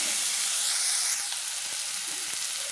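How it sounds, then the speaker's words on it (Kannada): Tomato, onion and green chili frying in a pan, a steady close sizzle and hiss with faint stirring ticks, no talking. "ಟೊಮೊಟೊ, ಈರುಳ್ಳಿ, ಮೆಣಸಿನ್ಕಾಯಿ ಫ್ರೈ ಆಗಿದೆ"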